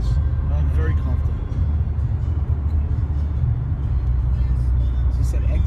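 A 2016 Cadillac CTS cruises at about 63 mph on the highway, giving a deep, even cabin rumble of engine and road noise that stays steady and close, with people talking over it.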